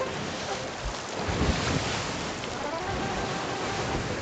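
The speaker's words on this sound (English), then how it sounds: "We're out in the middle of the ocean." Ocean waves wash steadily around a ship at sea in Sea of Thieves, a continuous rushing surf mixed with wind noise, fairly loud and unbroken, with no one talking.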